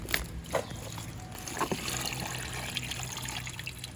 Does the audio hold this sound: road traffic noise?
no